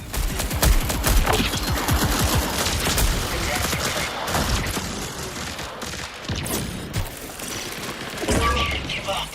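Rapid bursts of gunfire from the video game Marathon rattle in dense, repeated volleys, loud and punchy with short gaps, while a player's voice speaks over the action.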